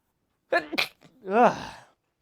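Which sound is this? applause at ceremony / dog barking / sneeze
sneeze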